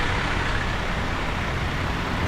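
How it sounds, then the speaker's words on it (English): Loud, steady road traffic on a New York City street, with cars and heavier vehicles blending into a constant close roar and no clear gaps. "And loud, very loud cars."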